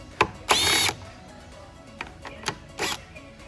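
A power tool undoing the strut nuts on a Mercedes SL55 R230 during shock replacement, sounding as short bursts of whirring, one longer half-second spin and several brief ones with clanks between.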